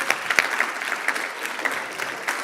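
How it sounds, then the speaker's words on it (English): An audience at a team night stands, cheers and applauds, a dense crowd of clapping with scattered whoops that stays steady and fairly loud throughout. "everybody stand and let's cheer Kylie McKinley and Amanda"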